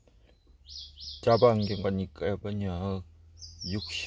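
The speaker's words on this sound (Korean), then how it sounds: "자, 새소리가 들리죠?" Birds chirp outside near dense trees: high, repeated tweets at a moderate distance before and between spoken phrases, with someone talking over much of it.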